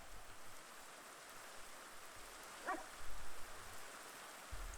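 Minecraft rain falls as a steady, soft hiss that swells and fades gently, heard alone at a moderate distance.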